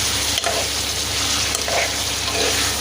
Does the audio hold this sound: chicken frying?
yes